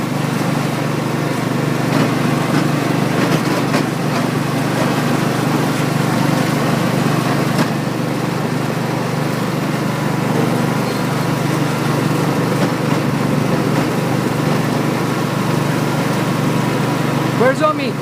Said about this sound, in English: We're going to go on a tractor.